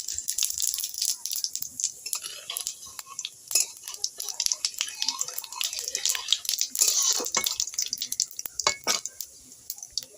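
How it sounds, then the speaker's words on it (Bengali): Bay leaf, two dried chillies and cumin hitting hot mustard oil, a dense crackling sizzle with sharp spits and pops throughout, close and steady, with a faint clink of utensils. "তেলের মধ্যে আমি একটা তেজপাতা আর 2টো শুকনো লঙ্কা দিয়ে দিলাম আর দিয়ে দেব সামান্য জিরে।"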